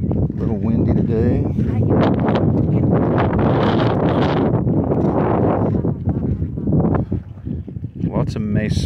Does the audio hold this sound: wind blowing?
yes